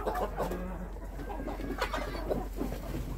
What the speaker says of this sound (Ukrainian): Це тут їдять ось дві молоденькі курочки.